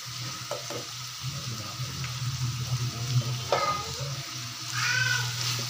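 Mixed vegetables and three to four chopped green chilies fry in a pan, a steady sizzle with a low hum beneath, punctuated by several scraping stirs and a louder metallic scrape near the end; no speech.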